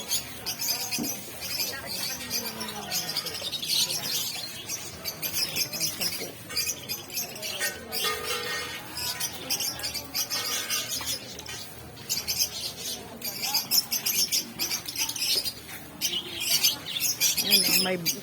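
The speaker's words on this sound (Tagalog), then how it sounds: "May birds" Caged birds for sale at a Philippine open-air market keep up busy chirping and squawking throughout, close and fairly loud, amid crowd bustle and people talking.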